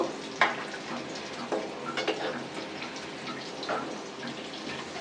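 Ash gourd coated in mustard paste fries and is flipped in a pan: a steady sizzle runs throughout, broken by a few sharp spatula scrapes and knocks near the start and middle.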